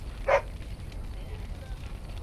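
One short, close dog bark from the Dragon Age: Origins video game, followed by quiet ambient game sound.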